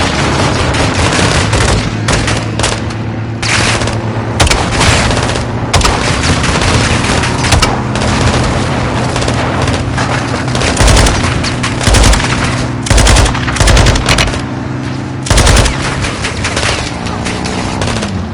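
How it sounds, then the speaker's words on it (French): Machine gun fire in Call of Duty Modern Warfare 2, loud sustained bursts of rapid automatic shots mixed with booms and a low rumbling battle bed running throughout, dense and unbroken. "Neutralisez cette mitrailleuse."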